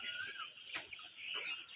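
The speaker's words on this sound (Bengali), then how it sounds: "ব্রাউন কক মোরগ" A brown cock rooster gives a few soft, faint clucks at a farm with a sale of birds, with steady background noise around the short calls.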